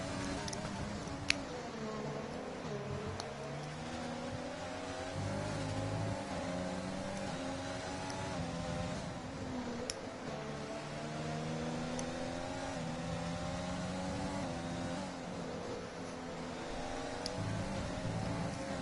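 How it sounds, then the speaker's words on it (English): Racing car engines in a sim racing game at an Italian circuit drone steadily throughout, with shifting revs rising and falling under continuous engine noise and occasional brief clicks. "Greenie's car's going driving towards Matt on the main straight"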